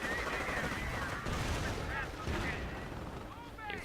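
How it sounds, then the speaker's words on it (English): Dense, continuous battle noise with rapid gunfire bursts and booming blasts, loud and busy throughout with faint voices mixed in. "So what we got here? Gunfire, explosions, things happening."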